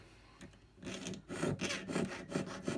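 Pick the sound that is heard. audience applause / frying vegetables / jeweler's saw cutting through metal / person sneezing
jeweler's saw cutting through metal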